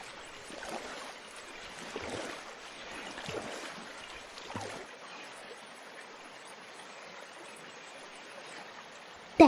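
A small rowboat glides through water on an outing to pick water lilies, with soft, steady swishing and lapping at low level and a sharp knock right at the end.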